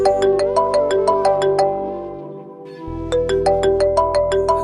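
A mobile phone rings with a bright, repeating electronic melody, playing twice with a brief pause between, loud and close with no talk.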